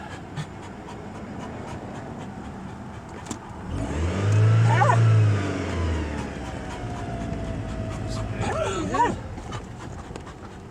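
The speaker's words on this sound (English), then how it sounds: "There's a car coming from behind." A car approaches from behind and rumbles past close by, its engine swelling then fading, while a dog pants and whimpers nearby.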